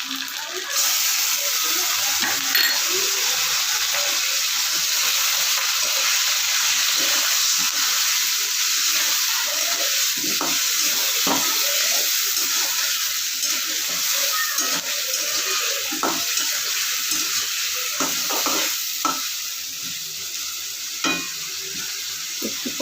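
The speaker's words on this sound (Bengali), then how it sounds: "এবার দিচ্ছি আমি পেঁয়াজ আর রসুন বাটা" Onion and garlic paste frying and being stirred in a hot pan for a Bengali dopeyaja with giant taro, a steady loud sizzle with occasional sharp scraping clicks of the stirring spoon throughout, no talking.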